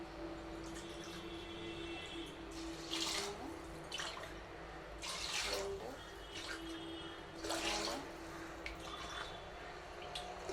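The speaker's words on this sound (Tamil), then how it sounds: "தண்ணி ஊற்றியாச்சு" Water is poured into a pot for curd rice, a steady faint trickle and splash with several louder gushing surges, close by and quiet.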